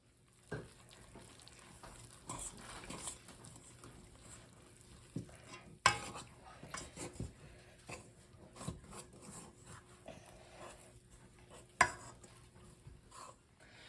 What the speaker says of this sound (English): Now we have the whisk here and we're going to mix up our dough.